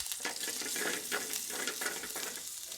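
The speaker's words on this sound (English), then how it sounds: "Add 1 whole dried red chilli and 1 pinch of cumin seeds to the oil." Dried red chilli, cumin seeds and chopped ginger fry in hot oil, giving a steady close sizzle with soft stirring scrapes pulsing through it from start to finish.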